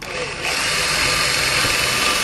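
A power drill whirs steadily as it bores a hole through corflute plastic sheet, a loud, continuous high-pitched grinding drone that starts abruptly and holds for a couple of seconds with no talk.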